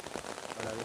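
Steady rain falling on a road, a soft continuous patter of drops with no other clear sounds over the short stretch.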